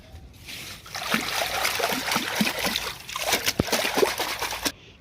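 Water washes dirt off rooftop garden plants, trickling and splashing steadily over leaves for about four seconds, close by and moderately loud.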